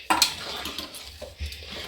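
Paneer is dropped into a pan and stirred while making paneer shahi curry, with a close clatter of a spoon against metal, a soft sizzle underneath and a few scraping knocks.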